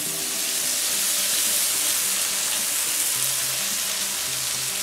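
Continuous close sizzle of tomatoes sautéing with golden-browned garlic in a large wide pan, a steady broadband hiss with no talk.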